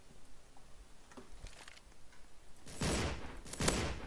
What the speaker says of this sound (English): these red barrels explode if you shoot them